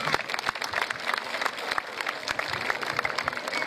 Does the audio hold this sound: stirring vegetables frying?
no